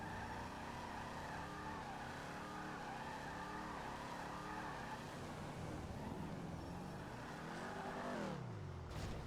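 A car engine drones steadily while driving in Grand Theft Auto V, rising and falling in pitch as it revs and shifts, with a sharp upward rev near the end, loud and continuous with no talk.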